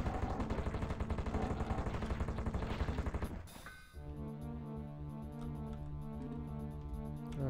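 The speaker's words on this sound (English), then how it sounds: "Just shoot him with a crossbow a few times and move on." Crossbow shots fire in rapid rhythmic succession in the retro shooter Heretic, a dense pulsing barrage for a few seconds that abruptly cuts off, giving way to sustained game music.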